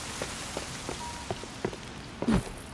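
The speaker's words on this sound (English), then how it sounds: "A hard rain, this. Heavy and relentless." Scattered drips and taps of heavy rain striking a surface in a video game, a steady patter with a few louder splashes near the end, no voices.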